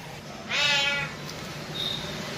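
A cat sitting inside an ATM centre lets out one clear, drawn-out meow close by, followed by a fainter short squeak over a steady background hum.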